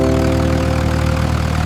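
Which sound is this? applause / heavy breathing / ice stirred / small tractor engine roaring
small tractor engine roaring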